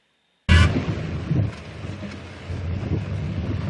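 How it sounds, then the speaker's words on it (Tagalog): Heavy rain and a thunder crash in Benguet, with a sudden loud burst followed by a steady, dense roar of downpour close by. "Sa gitna ng malakas na ulan"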